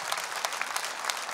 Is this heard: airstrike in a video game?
no